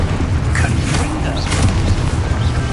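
A Confringo fire curse going off in the Hogwarts Legacy video game, a loud close booming rumble with a crackling, roiling fiery texture that holds throughout, heavy in the low end.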